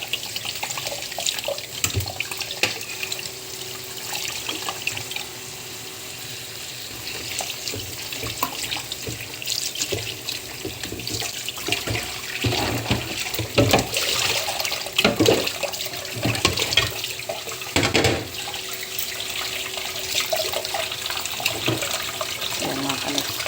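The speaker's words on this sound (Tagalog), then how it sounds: "Tapos na natin hugasan ang gulay." Tap water runs into a kitchen sink while vegetables are washed, a continuous splashing flow with irregular louder gushes and clatters as the produce is handled under the stream.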